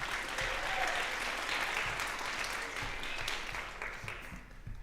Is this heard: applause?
yes